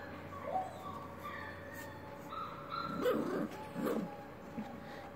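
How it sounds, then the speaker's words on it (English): A puppy gives a few short yips and barks at close range during play, with quiet rustling and faint movement between the bursts. "What a good puppy."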